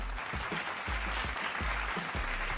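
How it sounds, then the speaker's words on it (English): Applause rises in a cricket talk show, a rhythmic run of fairly loud, evenly spaced claps with a low thump under each, as if from a small group clapping together close by. "Applause for you, boss."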